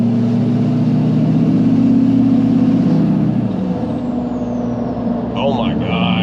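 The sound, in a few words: LBZ diesel truck engine with high flow intake whistle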